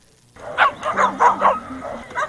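At a Humane Society Bark in the Park outdoor event, a dog nearby lets out a quick run of about six loud, yappy barks in close succession.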